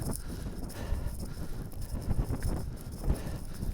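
Steady roaring wind on a mountain buffets the microphone, a dense rumbling gust noise that swells and dips throughout with occasional heavier thumps.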